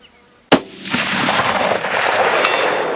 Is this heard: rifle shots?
yes